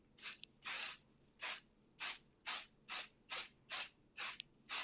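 Pixie Spray adhesive sprayed from a can in a run of about ten short, evenly spaced hissing bursts, close by and crisp, with quiet gaps between them.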